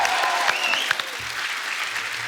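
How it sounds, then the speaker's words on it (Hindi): A television comedy talk show's studio audience applauds loudly to welcome film director Ashutosh Gowariker, a dense, steady roar of clapping hands that fills the whole stretch without pause. "जोरदार तालियों से स्वागत कीजिए"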